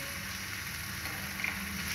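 A medium tomato fries gently in a pan of fish masala, giving a steady, moderately loud sizzle with light stirring scrapes near the end.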